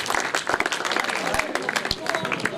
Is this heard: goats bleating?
no